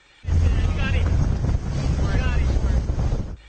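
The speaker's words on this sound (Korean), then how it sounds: "그린피스 환경감시선이 일명 쓰레기 섬을 찾아 태평양을 항해합니다." Greenpeace environmental monitoring ship sailing the Pacific Ocean: a steady, loud rush of wind and water noise at sea, continuous and close, with no voices.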